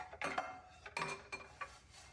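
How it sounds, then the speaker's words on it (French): Dishes and cutlery clatter and clink in a few separate bursts of washing, close and moderately loud, with quiet pauses between and no voices. "La vaisselle."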